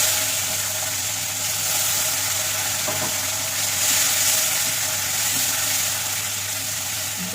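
Onions fry in oil in a pan for a fish-head curry, giving a steady, moderate sizzle throughout. A low background hum sits underneath, and nobody speaks.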